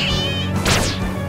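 Catnap, the large cat creature from the Poppy Playtime Chapter 3 animation, lets out a loud, drawn-out meow that rises and falls midway through, over a bed of music-like tones.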